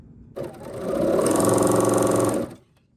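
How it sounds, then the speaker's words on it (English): A serger stitches across a fabric scrap in a single loud, close, steady burst that ramps up to speed, holds about a second and a half, and then winds down. "I will stitch on a scrap."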